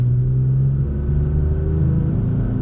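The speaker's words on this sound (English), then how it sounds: "let's give it just a little acceleration here" A 2022 Toyota Tacoma TRD Off Road 4x4 pickup's V6 engine rumbles loudly and close, rising gradually in pitch as it accelerates, with no other sounds.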